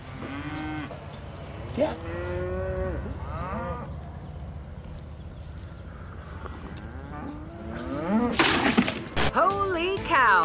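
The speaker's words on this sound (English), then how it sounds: "Look at the size of this cow that has everyone talking." A large cow moos several times in long, drawn-out calls, close and loud, with a brief crash and other background noises toward the end; a short spoken word is also heard.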